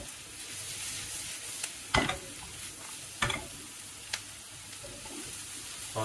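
Mushrooms and onions fry in a pan over raised heat, a soft continuous sizzle broken by a few sharp scraping clicks and knocks as the mixture is stirred, fairly quiet and close with no voices.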